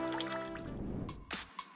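Water drips and trickles from a makeshift shower rigged in a forest at a scout campsite, a close steady dribble followed by a few distinct splashy drops toward the end.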